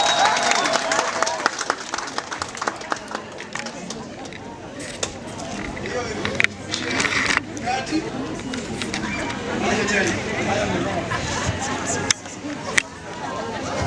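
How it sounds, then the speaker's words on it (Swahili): Clapping from an audience at a college graduation ceremony runs steadily throughout, a dense crowd applause with some background chatter and a few louder claps standing out. "Asante, muongezeni makofi."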